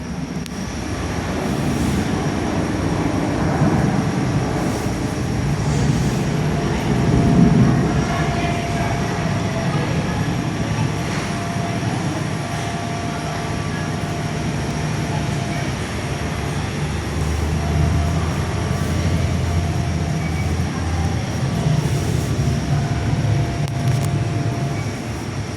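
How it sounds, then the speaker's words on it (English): A Jetstar Airbus A321LR jet taxis and departs Perth airport, bound for Sydney, its engines a steady, fairly loud continuous roar with a low rumble that swells slightly midway and holds without pause. "Jetstar's A321LR, the first one, is now departing Perth for Sydney."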